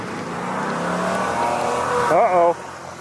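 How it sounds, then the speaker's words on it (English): A passing car with a loud muffler rumbles and builds as it drives by, its engine note swelling to a peak before cutting off abruptly; voices are heard talking over it. "Is he going after the guy with the loud muffler?"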